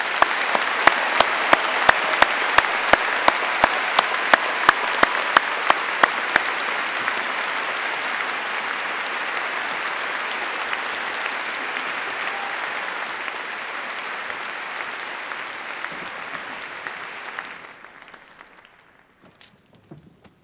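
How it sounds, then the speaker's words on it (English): Applause for Faculty of Medicine graduates at a university commemoration ceremony: sustained clapping from a large audience, loud and dense with some sharp close claps early on, tapering off to near silence at the end. "Please join me in a round of applause to the graduates."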